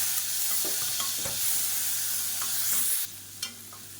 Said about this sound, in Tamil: தக்காளி வெங்காயம் ஓரளவுக்கு வதங்க ஆரம்பிச்சிருச்சு